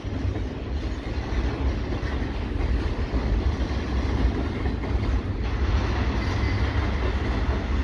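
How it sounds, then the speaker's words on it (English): A VIA Rail passenger train departs and rumbles past close by on a windy day, a steady loud roll of wheels on track with faint clatter, continuing throughout. "the VIA train came, and luckily, this is now leaving"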